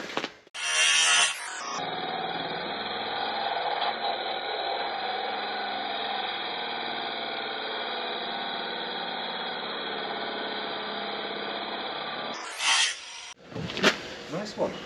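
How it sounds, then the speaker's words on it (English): An angle grinder's cutting wheel screams through roof rack metal in one long continuous cut lasting about ten seconds, loud and close, with short spin-up and spin-down bursts at either end. "I'll get this cut with the cutting wheel"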